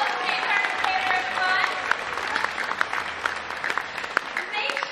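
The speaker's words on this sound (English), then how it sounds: "One more round of applause for your Star Wars Weekend host, James Harris" An audience claps for the host at a Star Wars Weekend show at Disney's Hollywood Studios, a busy, steady patter of hands mixed with shouts and voices across the crowd.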